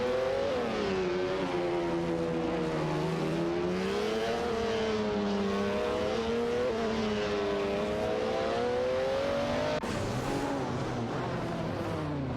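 Engines of racing cars in an AI-driven racing video game roar continuously at high revs, the pitch rising and dipping through gear changes and a sharp shift near the end, loud and unbroken with no talking.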